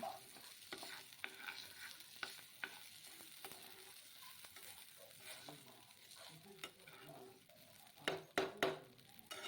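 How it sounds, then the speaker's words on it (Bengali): Raw rice grains slowly dry-frying in a pan for a traditional Bengali potol dish, a steady soft sizzle with repeated scraping stirs of a spatula and a few sharper clatters of utensil against the pan near the end. "অনেকক্ষণ ধরে ধীরে ধীরে ভাজতে হবে"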